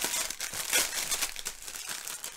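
Loud plastic packaging crinkles and crumples while an art canvas is unboxed. The dense, continuous rustling sits close to the listener, with no talking over it.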